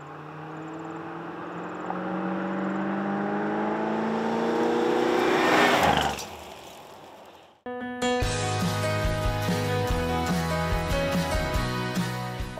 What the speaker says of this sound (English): You cannot beat the sound of that wide open throttle, four barrel, bogged down sound that only a V8